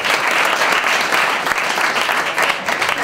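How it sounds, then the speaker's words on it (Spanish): Sustained applause fills the room at a team celebration after a pride match, dense steady clapping from a sizable group, loud and close throughout with no talk over it. "Un aplauso."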